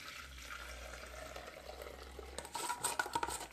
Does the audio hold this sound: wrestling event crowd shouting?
no